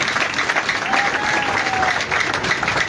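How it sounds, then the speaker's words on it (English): A crowd at a political manifesto rally claps, a continuous, even burst of many hands lasting a few seconds, loud and close, with a faint whistle cutting through. "Please clap for yourselves."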